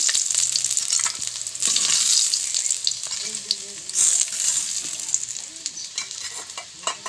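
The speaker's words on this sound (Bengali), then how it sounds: "বন্ধুরা দেখুন মাছগুলো লাল লাল করে ভাজা হয়ে গিয়েছে" Shol fish frying in oil in a wok, a loud, steady sizzle with scraping turns of a spatula, while faint background voices murmur underneath.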